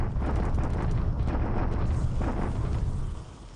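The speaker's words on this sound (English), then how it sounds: "He's bombarding here, though." Naval bombardment in the War in the Pacific video game rumbles as continuous low explosions, a dense rolling barrage that fades slightly near the end.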